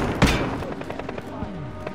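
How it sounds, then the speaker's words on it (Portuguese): Enemy gunfire in Call of Duty: Modern Warfare, a loud close burst of rapid shots followed by continued crackling fire, with no voice over it. "Os desgraçados estão atirando em mim."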